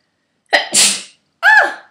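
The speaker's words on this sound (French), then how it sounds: "je vais éternuer" A single loud, close sneeze with a sharp burst and breathy release, followed after a short pause by a brief voiced sound.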